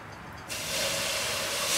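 Water hits hot caramel for popcorn and erupts into a loud, sudden hiss of steam that swells and holds to the end after a quieter start.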